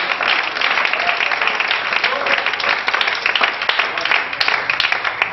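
Church congregation applauding in praise of God during a sermon, a dense, steady wash of many hands clapping close and loud throughout, with a preacher's voice mixed in.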